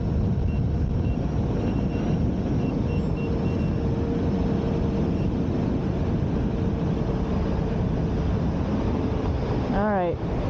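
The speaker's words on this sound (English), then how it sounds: "I hit up to my second level helmet beeps" Electric unicycle (Sherman S, high speed mode) sounding a rapid series of rising speed-warning beeps near the end, over steady loud wind and road rumble while riding.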